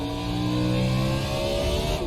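Race car engine in iRacing at Circuit of the Americas, revving hard under acceleration with rising harmonic whine and a shift into third gear, loud and steady with no talk.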